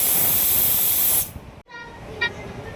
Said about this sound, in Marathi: इथे कुकर बंद करून बघा आपल्याला 4 ते 5 शिटी चांगले काढून घ्यायचे बघा.